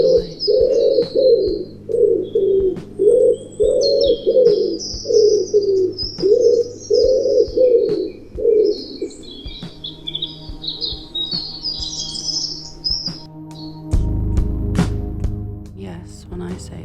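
Birds sing outdoors, with a pigeon or dove cooing in an even, repeating series close by while higher chirps and tweets flutter above, ending in a louder rumbling noise near the close.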